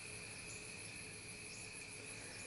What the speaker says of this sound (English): The crickets, the peepers, the tree frogs.